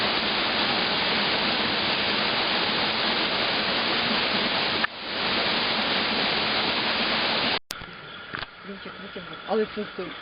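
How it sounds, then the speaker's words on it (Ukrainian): The Zhenetskyi waterfall in winter roars as a loud, steady broadband rush of falling water, close by, cutting out abruptly near the end to quieter outdoor sounds. "ми з вами знаходимося на зимовому водоспаді"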